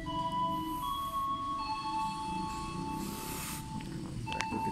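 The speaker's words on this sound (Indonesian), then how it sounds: "Mulai tiba nih ya, KRL-nya." A KRL Commuter Line train rolls into Daru station, Indonesia, with a steady low rumble, while several sustained tonal squeals and whines from the wheels or brakes ring out over it.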